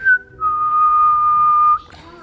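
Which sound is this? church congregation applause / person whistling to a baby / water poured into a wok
person whistling to a baby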